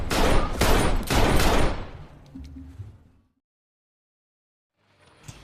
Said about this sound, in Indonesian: Tapi bukannya dibayar, Josh malah menembak mati kurir barang haram tersebut.